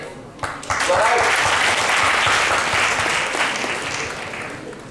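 An audience claps in a room after someone gives a correct answer in a talk about logos, a steady burst of applause that holds for several seconds with faint voices underneath.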